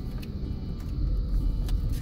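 Steady rumble of a car driving along a road, heard from inside the cabin as continuous low engine and tyre noise with no talk.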